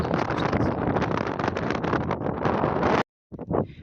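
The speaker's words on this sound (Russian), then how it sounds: "Здесь ветер дует" Strong winter wind blasts across an exposed seaside staircase of 400 steps in Anapa, a loud, continuous roaring buffet on the microphone that cuts off abruptly, then returns briefly in a few gusts.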